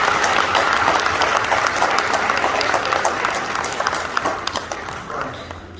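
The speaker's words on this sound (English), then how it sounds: "Give them a round of applause," Audience at a Windrush Generation community gathering applauds loudly, a thick burst of clapping that stays strong and then gradually tapers off, with some scattered voices mixed in.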